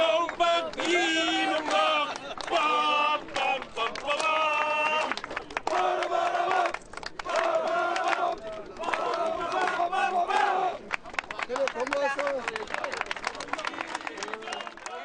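A large crowd cheers and shouts at a South Korean presidential farewell as the president leaves office, a loud, sustained roar of many voices with rhythmic chanting and scattered clapping throughout.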